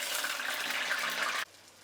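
Urad dal vada batter made too wet sizzles in hot frying oil, a loud, close, hissing crackle that holds steady and then cuts off sharply.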